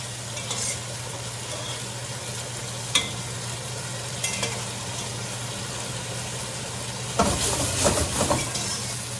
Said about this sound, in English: gnocchis are coming right out, nice and hot. Going right in and gonna get glacéed with the sauce